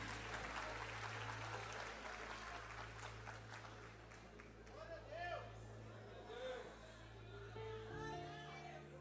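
A church congregation applauding during a service, a broad wash of clapping and crowd noise that fades into murmuring chatter and scattered voices, with a low steady hum underneath.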